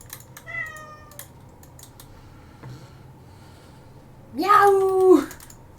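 Cat meowing in the Divinity Original Sin game, a short high mew near the start followed by a louder drawn-out meow near the end, over a quiet background with a few soft clicks.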